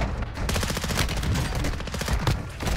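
Rapid automatic gunfire from a hip-fire weapon build in the video game Warzone 2 rattles loud and nearly continuous, dense bursts with no pauses.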